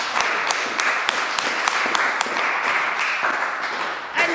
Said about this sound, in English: Again, a round of applause for that.